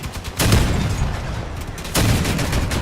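Rapier weapons fire in the Crossout vehicle combat game, two heavy booming shots about one and a half seconds apart over a dense, loud rumble of gunfire and engine noise.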